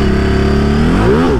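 Ducati Multistrada 950S motorcycle engine revving close up, a loud steady mid-pitched drone that swells and rises sharply near the end as the throttle is opened.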